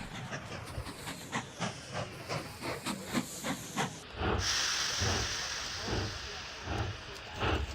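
Steam trains running in the video game Mashinky: a steady, rhythmic chuffing of several quick beats, then a long, loud hiss of released steam with softer chuffs continuing beneath it.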